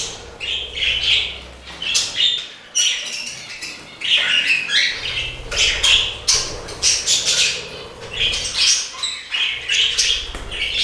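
Budgerigars and finches chirp and squawk continuously in an indoor bird room, a dense, close chorus of overlapping tweets and chatter with occasional wing flutters.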